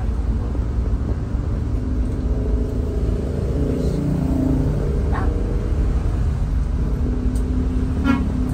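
A bus cruising on an Indonesian toll road gives a steady loud rumble of engine and road noise from inside the cabin, with a short horn toot and a few faint higher tones rising over it.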